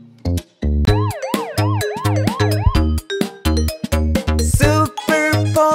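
Cartoon police car siren in a kids' nursery song, rising and falling wails repeated several times over bouncy music with a steady beat, loud and up front.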